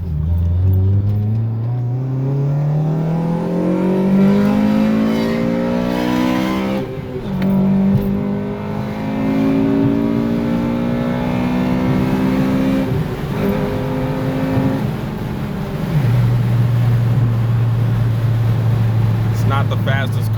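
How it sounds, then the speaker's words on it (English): A Honda Civic Si engine revs hard and close, its pitch climbing as it accelerates into VTEC, dropping at each gear shift, then settling into a steady drone. "so I could show you the VTEC and acceleration"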